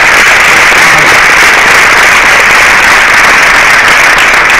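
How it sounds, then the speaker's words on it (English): A big round of audience applause at a Marvel Studios Black Panther 10th anniversary Q&A, loud and continuous clapping from a packed crowd throughout with no voices on top. "let's have a big round of applause."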